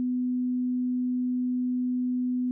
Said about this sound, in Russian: Но мне показалось, что 250 Гц с правой стороны звучат тише, чем с левой.